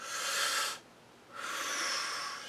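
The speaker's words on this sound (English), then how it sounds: "then go take in the breath" Two long, loud, breathy inhalations or exhalations taken during a weight exercise, close to the microphone and separated by a short quiet gap, with no talk.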